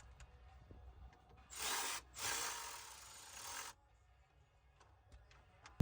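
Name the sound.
tightening black plastic screws on Mercedes ML350 fuel pump module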